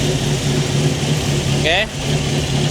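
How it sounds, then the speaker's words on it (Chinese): A tuned Toyota 4AGTE engine with a new fuel pump runs at a steady idle with a high-cam-like lope, loud and close, while someone talks over it. "现在的声音听起来哦，很像 high cam 的样子。"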